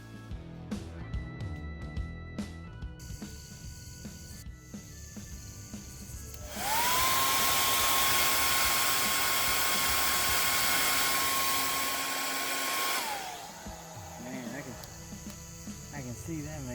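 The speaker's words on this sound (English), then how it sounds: "couldn't find the heat gun, but I got the hair dryer" A hair dryer blows with a steady whine and rush of air for about six seconds as it heats pinstripe tape on a Ford F150, starting and stopping abruptly amid faint background noise and brief talk.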